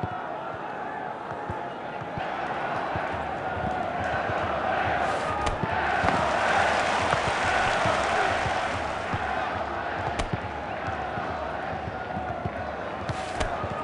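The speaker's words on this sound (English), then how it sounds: "the crowd are well behind their team now they've got their goal" A football crowd in the Dream League Soccer video game keeps up a steady roar, with a match commentator talking over it throughout.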